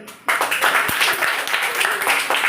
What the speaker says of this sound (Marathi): बाकीच्या मुलीसाठी सर्वांनी टाळ्या वाजवायचे